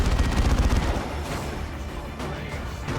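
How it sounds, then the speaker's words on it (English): Assault cannon barrage in the strategy game Dawn of War 2: Retribution, a loud rapid burst of heavy fire in the first second, then rumbling, softer battle noise and scattered shots. "Assault cannon barrage."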